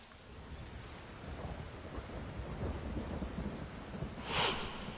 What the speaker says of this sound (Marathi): जिल्ह्यामध्ये गेल्या 48 तासापासून मोठ्या प्रमाणात मुसळधार पाऊस पडतो आहे।